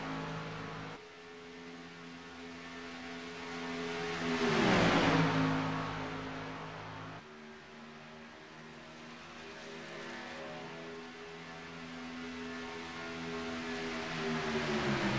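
A stock race car engine in an iRacing Cup Series race at Talladega, holding a steady high-revving drone, with a loud swell as another car roars past midway before the steady whine resumes.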